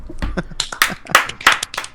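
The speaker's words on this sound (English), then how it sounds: "Let's give Fred another round of applause if you can." A few people giving a brief scattered round of applause for Fred on a podcast, with uneven claps and snaps in loose clusters, fairly close and moderately loud, with no talking.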